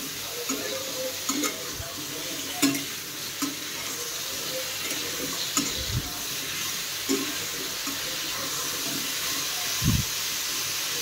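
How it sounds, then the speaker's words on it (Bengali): Potato and pointed gourd pieces fry with salt in a pan, giving a steady, quiet hiss of oil broken by occasional soft knocks and stirring bumps, heard close with no talk. "এখানে আলু পটলটা ভাজবো, তার জন্য আমি অল্প করে নুন দিয়ে দিচ্ছি।"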